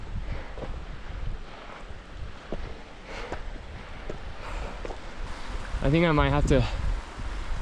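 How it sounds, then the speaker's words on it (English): Wind gusts through a small mountain valley on Quandary Peak, rushing and buffeting the microphone steadily, rising toward the end as a person speaks briefly over it. "Oh, here comes the wind just as I say that"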